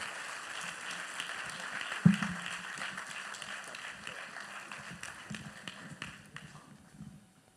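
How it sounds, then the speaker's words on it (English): An audience at the Ecobank Fintech Challenge 2024 finale applauds to welcome the Ecobank Group CEO, steady, moderately distant clapping with a few sharper claps that thins out and fades away at the end. "Sous vos applaudissements, mesdames et messieurs"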